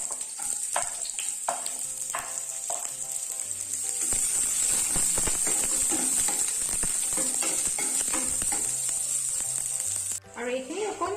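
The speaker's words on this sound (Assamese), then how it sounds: "এতিয়া দি দিছোঁ পিঁয়াজখিনি" Sliced onions added to hot oil with a red chili, a loud steady sizzle with occasional stirring scrapes close by, set against faint background music.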